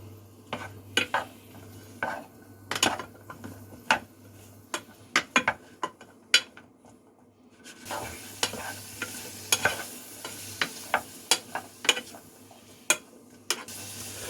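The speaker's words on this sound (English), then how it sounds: "let's put in our spicy sausage and celery. All right, we'll let that cook for a little while" Spicy sausage and celery cooking in a pan, a low continuous sizzle punctuated by frequent sharp clicks and scrapes of a utensil stirring against the pan, close and alone without talk.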